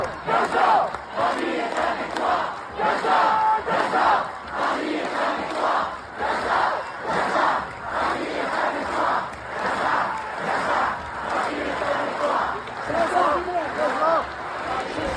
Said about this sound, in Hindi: फ्रांस की राजधानी पेरिस में फ़िलिस्तीन गज़ा के समर्थन में खतरनाक प्रदर्शन हो रहे हैं